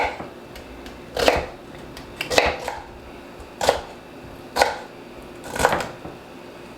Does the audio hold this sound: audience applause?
no